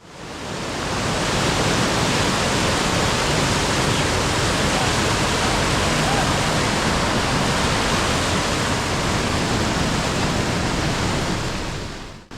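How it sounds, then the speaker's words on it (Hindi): A waterfall plunging from a great height beside the Amarnath Yatra mountain trail roars as a loud, steady wash of broadband noise, close and constant throughout. "ये झरना काफ़ी ऊपर से गिर रहा है।"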